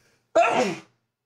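A single sharp sneeze bursts out close and loud, lasting about half a second, then trails off into silence during a casual German gaming chat.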